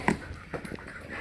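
Penny, a pet dog, gives a short high whimper up close followed by soft panting breaths, quiet and brief with no one talking over it.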